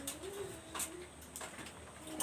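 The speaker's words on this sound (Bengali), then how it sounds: "চলেন আমরা কি কবুতর আছে দেখি" Teddy and Kamagar pigeons at a home loft coo in soft, repeated low calls, a few rounded phrases close by with no one talking.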